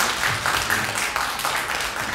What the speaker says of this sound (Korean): 수고하셨다고 박수 한번 크게 쳐드립니다